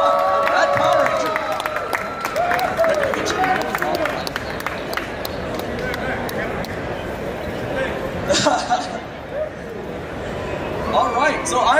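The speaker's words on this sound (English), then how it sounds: "Let's give a round of applause for Austin St. John, Red Power Ranger" Audience at a convention panel applauds a Power Rangers actor, broad sustained clapping and crowd noise filling the room steadily, with some cheering rising toward the end.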